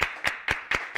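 Rhythmic clapping from a studio audience on a Mexican TV variety show, five sharp claps in steady tempo with no talk over them.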